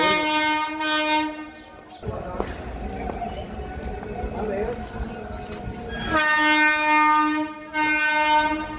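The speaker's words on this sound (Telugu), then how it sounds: "ట్రైన్ అటు వెళ్తుంది" At a railway station, a passing train's horn blares loud and sustained, breaks off while rumbling and voices fill the gap, then sounds again in long blasts.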